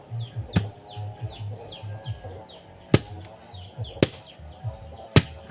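Chickens cluck repeatedly nearby in a steady, busy chatter, with a few sharp knocks and thumps breaking in at intervals.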